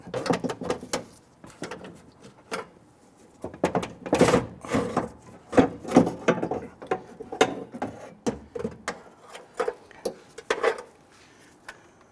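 The power window regulator assembly of a 1994-2004 Ford Mustang is worked out of the door shell, making irregular metallic clanks, rattles and ratcheting knocks in close, uneven bursts with short pauses between them.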